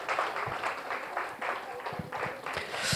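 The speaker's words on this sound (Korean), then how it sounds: "박수 한번 주세요." Audience applause at a book concert about Cheonghak-dong: a crowd claps in a continuous, moderately loud patter with slight surges, with faint voices mixed in.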